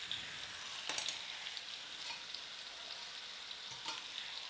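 Scraping and stirring in a Dutch oven while oxtails cook, a spoon working browned bits off the bottom over a soft continuous sizzle, with a few sharp scrapes standing out.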